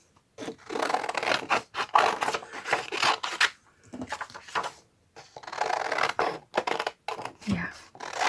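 Scissors snipping through paper images in short crisp bursts of cutting and rustling, close and intermittent, with brief pauses between runs of cuts.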